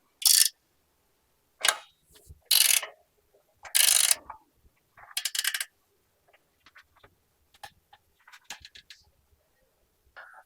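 Wrench ratcheting on bracket bolts while fitting a front sway bar disconnect to a Jeep JL/JT axle, several short separate bursts of ratchet clicks with pauses between, fading to lighter clicks.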